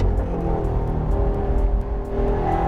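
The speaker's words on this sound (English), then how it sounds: "Holding the gear through here, the engine sounds fantastic." A 2019 Chevrolet Camaro SS 1LE's V8 engine holds a gear on a race track, a loud, steady, deep rumbling drone recorded close from inside the car, with a slight dip before continuing strong.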